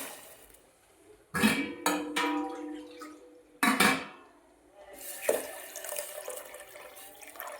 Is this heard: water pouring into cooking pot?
yes